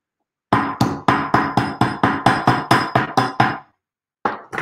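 A hammer striking metal jewelry links, about fifteen sharp, ringing metallic blows in an even rhythm, close and loud, then a pause before one more strike.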